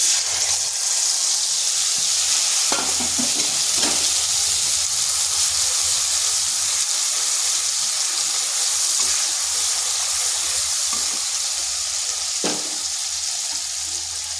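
Spice paste tipped into a hot pan for an aubergine dish, frying with a constant loud sizzle and hiss, occasional sharp scrapes of stirring breaking through.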